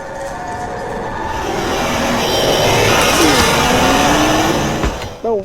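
Rush, the monster in the Roblox game Doors, roars past like a speeding car, a loud rising rush of engine-like noise that swells, peaks, then cuts off abruptly.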